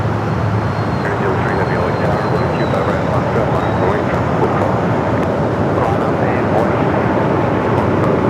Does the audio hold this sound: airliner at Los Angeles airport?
yes